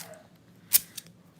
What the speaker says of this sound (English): They don't really cut that well, but these are like arts and crafts scissors